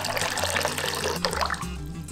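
Water streams into a pot for arroz con leche, a steady close splash and trickle that stays fairly constant for a couple of seconds, with no voices.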